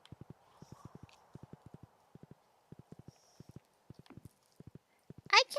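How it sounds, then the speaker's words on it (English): Horse hooves from riding in Stardew Valley give quick, clean clip-clop taps in short rhythmic bursts, fairly quiet against near silence, with a few soft game chimes and a louder burst at the end. "I can't ride a horse to save my life."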